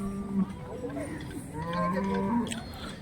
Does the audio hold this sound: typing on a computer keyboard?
no